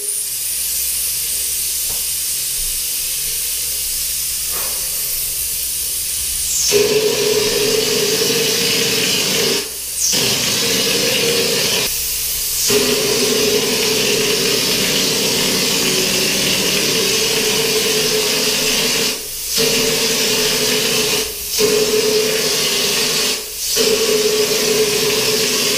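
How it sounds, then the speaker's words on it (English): Harbor Freight texture spray gun blowing air while spraying a drywall knockdown finish, heard as a loud, steady close hiss that cuts out briefly several times, with no talking. "it's just going to flow air, and then you're ready to spray"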